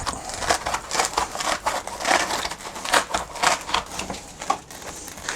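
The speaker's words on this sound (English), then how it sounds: "You've got a pretty good technique going there for peeling out the foam." Foam being peeled out of a Milwaukee Packout insert, giving close, uneven tearing and crackling pulses that come in quick repeated bursts as the layer is worked free, with no talk.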